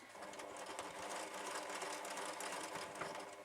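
A small domestic sewing machine with a 7-inch throat free-motion quilting a large quilt, its needle chattering in a fast, continuous mechanical whir that stays steady and close throughout.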